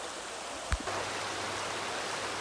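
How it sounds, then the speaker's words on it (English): A river rushes steadily at a hiking trail crossing in Cades Cove, a close, even wash of water noise with one brief soft knock near the start. "Yet again, another river crossing."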